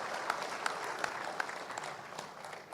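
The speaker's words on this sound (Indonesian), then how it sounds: "berikan tepuk tangan pada dia." Audience applause at an Indonesian televised dialogue event, a steady wash of clapping with a few sharper individual claps standing out, moderately loud and sustained throughout.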